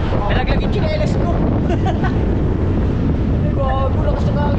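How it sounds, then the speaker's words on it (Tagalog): Strong wind buffets the microphone in a constant loud roar, with voices talking faintly underneath. "lakas ng hangin"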